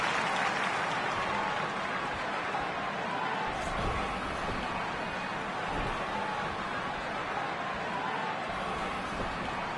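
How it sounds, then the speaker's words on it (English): Crowd at a WWE wrestling event in Tokyo, Japan, a dense steady roar of applause and cheering from a large arena audience, with a commentator's voice faintly mixed in. "I don't remember the last time I heard a more passionate crowd than the one we have here tonight"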